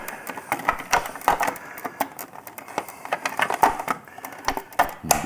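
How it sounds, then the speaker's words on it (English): Plastic frame pieces on a fat tire bike being pressed and snapped back together, a close run of sharp clicks, knocks and rattling taps in uneven bursts. "Get these 2 pieces snapped back together"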